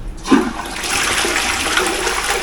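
A toilet flushes in a guest bathroom on an island trip, with a sharp click of the lever followed by a loud, sustained rush of draining water close by.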